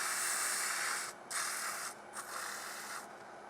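A wooden honey dipper spinning on a lathe gets sanded with 180 grit sandpaper, a steady close hiss with short breaks as the paper lifts and touches down again.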